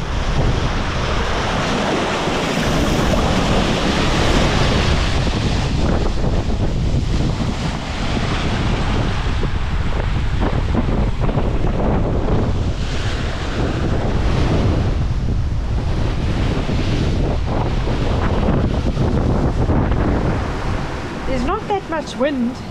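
Ocean swell and strong wind surround a solo sailboat at sea between Cape Town and Hobart, a constant heavy roar of rushing water and buffeting wind across the microphone, loud throughout with a brief voice near the end.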